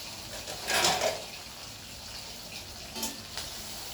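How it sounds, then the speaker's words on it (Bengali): Onion frying in plenty of oil in a wok, a faint, soft sizzle with a couple of brief louder bursts of crackle or stirring, no talk. "পেঁয়াজটা একটু ভাজা ভাজা হবে।"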